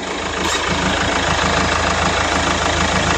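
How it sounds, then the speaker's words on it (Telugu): The diesel engine of a Mahindra XUV500 W10 SUV idles close by, a steady low rumble with a faint regular knocking pulse, running continuously with no voices. "ఇంజన్ బీటింగ్ కూడా చాలా మెత్తగా మెత్తగా అయితే ఉంది"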